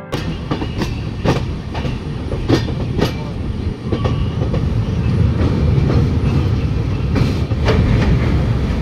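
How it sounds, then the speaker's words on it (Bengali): A passenger train rolling across the Mahanadi rail bridge near Cuttack, Odisha, with loud close rumble and rhythmic clickety-clack of wheels over rail joints, heard steadily from on board. "ট্রেনটি এখন পাস করবে মহানদী নদীর উপর অবস্থিত মহানদীর রেল ব্রিজ"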